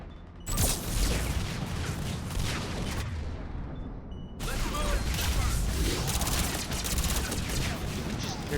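Heavy gunfire and explosions from the video game Mass Effect 3 erupt loud and dense, with a brief lull partway through before another blast brings the crackling barrage back at full force.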